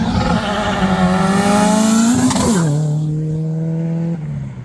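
A supercharged Corvette Grand Sport accelerates hard at a car meet. The loud engine note climbs steadily, drops sharply at a quick shift, then pulls again at a lower pitch before fading slightly at the end.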